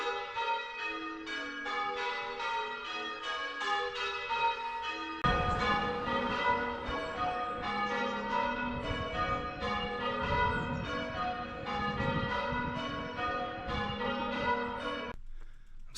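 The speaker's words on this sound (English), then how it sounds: "thanks for the bell ringing" Church bells ring a long, steady peal of overlapping tolls, heard alongside a roadside cycling trip in England and carrying on with no voices.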